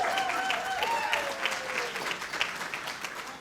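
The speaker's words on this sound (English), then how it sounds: "Give him a round of applause." Audience applause rings out at a volunteer recognition luncheon as an honoree walks to the stage, steady dense clapping over a faint tone, filling the room from start to finish.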